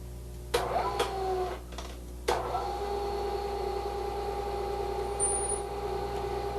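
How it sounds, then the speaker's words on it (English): A milling machine in back gear drives a reamer through a hole filled with thick sulfur cutting oil, giving a steady, fairly loud mechanical hum with a few sharp clicks and knocks at the start. "shift our machine into back gear. We're now ready to ream our hole."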